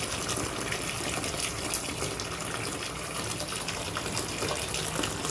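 Wild Tornado drain cleaner poured from its bottle into a clogged drain holding standing water, a steady gushing splash that runs continuously and fairly loud at close range without a break.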